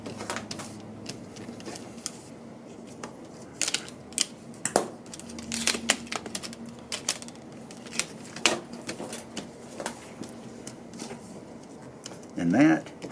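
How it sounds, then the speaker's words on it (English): A knife slicing through product packaging to cut it flat, heard as a series of scattered scraping and cutting strokes, fairly close and quiet, with a sharper crinkle near the end. "I will keep packaging, so I want to cut this so that it's as flat as I can get it"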